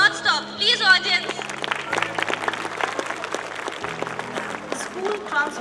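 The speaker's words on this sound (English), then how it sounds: "Please, the clapping should go on." Applause from a children's annual concert audience, steady clapping mixed with crowd murmur and a low sustained musical tone underneath, with a voice speaking over it.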